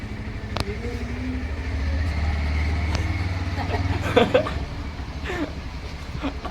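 A car driving back along a roadside, its low engine rumble swelling and holding for a few seconds before fading, with voices and a bit of chatter over it.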